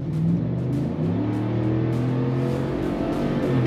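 A 2022 Toyota Tundra TRD Sport, a Ford F150 Tremor and a Chevy Silverado ZR2 accelerate hard from a 50 km/h rolling start, heard as a loud, continuous rising engine roar from inside a cab.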